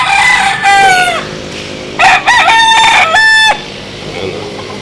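A fighting cock on a small farm crows loudly and close, three separate cock-a-doodle-doo calls with short gaps between them, over faint background noise.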